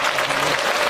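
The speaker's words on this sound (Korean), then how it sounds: "그럼 박수 한번 부탁드립니다." Dense audience applause fills a New Year concert hall with an orchestra, a steady wash of many hands clapping at close range with no break.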